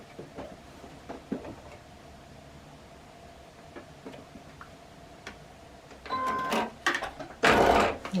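A sewing machine stitches a quilt seam, with faint ticking and small clicks first, then a short loud whirring run of stitches near the end.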